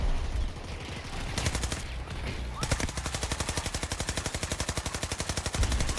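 Automatic gunfire in the shooter Battlefield 2042, rapid bursts of rattling shots building into a long, evenly paced stream of loud, close rounds with no talk.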